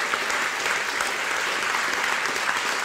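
Warm, dense applause from a seated audience after an interview show, a full continuous wash of many hands clapping at even loudness throughout, with no voices over it.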